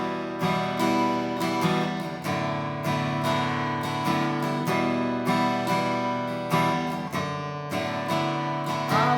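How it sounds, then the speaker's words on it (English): Chords strummed on a steel-string guitar in a loping, swung rhythm, steady and close, with no voices. "swing that rhythm just a little bit when you're strumming the chords"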